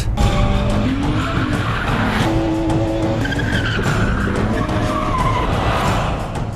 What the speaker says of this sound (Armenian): Drift